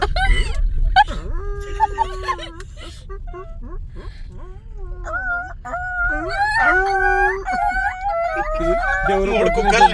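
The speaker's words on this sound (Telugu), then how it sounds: "ఎవరో 3 కుక్కలు ఎవరో కొట్టినట్టుంది. 3 కుక్కలు ఎక్కినాయి." Several dogs howl and whimper in long, rising and wavering cries that overlap close by, mixed with short yelps, continuing throughout.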